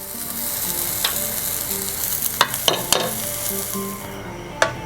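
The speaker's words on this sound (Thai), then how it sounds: "เราจะแค่จี่ให้กุ้งขึ้นสีสักนิดหนึ่งนะครับ" Shrimp pan-frying in a hot pan for garlic-oil spaghetti, giving a steady, close, full sizzle with a few sharp pops and crackles standing out near the end.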